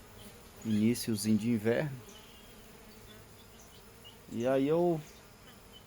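Honey bees buzz around their hives on a cool early-winter Sunday morning, a soft continuous drone with two louder close passes as single bees fly by the recorder, while someone speaks briefly.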